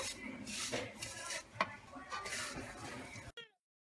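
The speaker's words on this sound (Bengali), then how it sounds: "হালকা ভেজে নেব সেমাইটাকে, আর একটু হালকা ভেজে নেব।" Vermicelli stirred and lightly fried in a pan over medium heat, giving soft scraping and stirring with a faint sizzle, a sharp clink near the middle, then sudden silence at the end.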